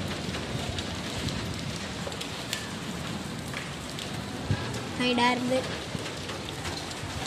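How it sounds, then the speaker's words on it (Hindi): Steady rain patters on a surface throughout, with a voice speaking briefly over it and a short clatter near the end. "वही बहुत ठंडी बारिश है भाई"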